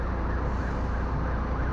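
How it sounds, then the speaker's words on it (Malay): An ambulance siren wails in traffic through the town of Kajang, a steady rising-and-falling tone held under continuous road rumble, with no talking. "Dengar bunyi ambulans, tak berani nak tekan."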